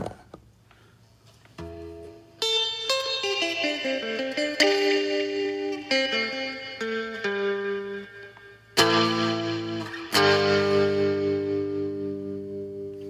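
Guitar notes played through an effects pedal with dual trim and spring reverb, chords ringing out with a splashy, echoing tail; several strums, fairly loud, no talk.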